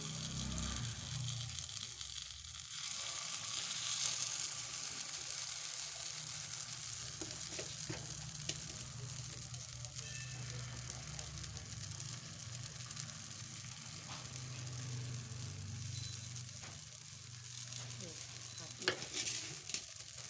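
Paddu batter fries in a pan with a continuous soft crackling sizzle and light stirring scrapes, fairly quiet and steady throughout, with a few small clinks near the end.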